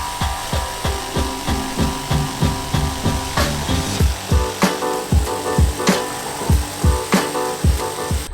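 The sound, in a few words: sawing a big plywood board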